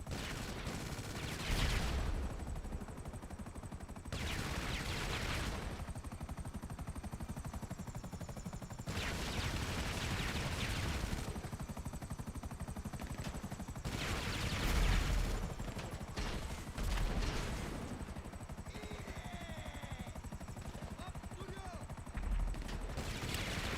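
A cannon fires in the GTA Online video game during a yacht mission, with repeated loud booming bursts at irregular intervals amid ongoing game noise and a faint engine-like drone, and bits of talk in between.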